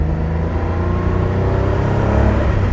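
A 1983 Porsche 911 SC Cabriolet pulls hard up a winding serpentine road, its engine note loud and close, building steadily as the car accelerates without a break.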